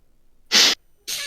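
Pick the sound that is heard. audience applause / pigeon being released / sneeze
sneeze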